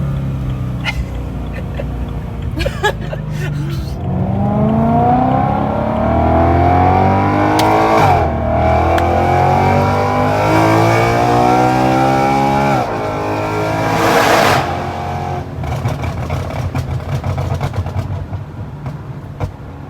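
A loud BMW E93 M3 with Valvetronic mufflers and test pipes revs and accelerates repeatedly, its exhaust note climbing in pitch through several gear changes, close and powerful.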